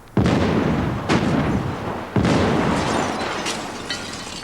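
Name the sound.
special effects explosion at a gas station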